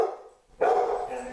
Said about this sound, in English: There's a dog outside, so my dog is excited.